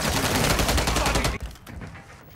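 Loud, dense automatic gunfire from the Modern Warfare 3 video game, a sustained rattling burst that cuts off abruptly after about a second and a half, leaving quieter game ambience.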